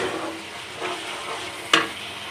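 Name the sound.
sizzling spices being fried in a pan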